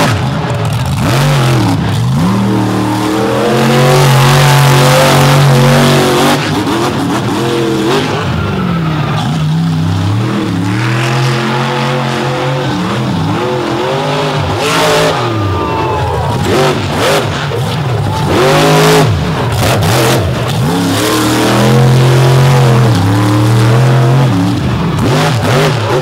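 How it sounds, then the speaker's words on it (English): A monster truck engine revs hard and continuously at a monster truck event in Brooksville, rising and falling in loud pitch sweeps, with an announcer's voice running faintly beneath the roar. "The engine sounds nice and crisp"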